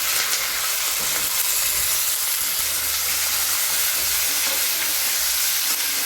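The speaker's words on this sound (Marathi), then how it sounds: "कांदा टोमॅटो लसूण आलं आणि कढीपत्ता तेलामध्ये थोडे फ्राय करून घेते" Continuous loud sizzling of onion, tomato, garlic, ginger and curry leaves frying in hot oil, a dense steady hiss with occasional stirring, no voices.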